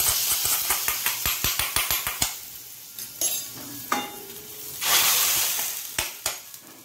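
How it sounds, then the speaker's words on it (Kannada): Mustard seeds splutter in hot oil for a beetroot majjige huli tempering: quick, evenly spaced sharp pops sound close at first, then give way to scattered crackles and bursts of sizzling. "ಯಾವಾಗ ಸಾಸಿವೆ ಪಟ್ ಪಟ್ ಹೇಳಿತು ಮತ್ತು ಅದರೊಟ್ಟಿಗೆ ಉದ್ದಿನ ಬೇಳೆಯ ಕಲರ್ ಚೇಂಜ್ ಆದ ಕೂಡಲೇ ಆಫ್ ಮಾಡಿಕೊಂಡು"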